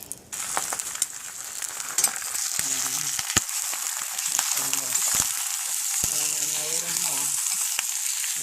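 Eggs fry in a hot pan, a loud, close, steady sizzle with scattered crackles and pops, while a faint voice murmurs in the background partway through.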